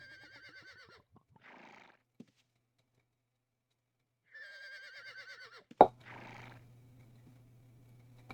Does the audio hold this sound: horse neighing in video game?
yes